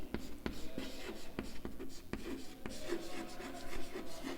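Chalk or marker writing on a board during a physics lecture on wavelength, with short rubbing strokes and taps repeating steadily, close and fairly loud, and faint speech in the background.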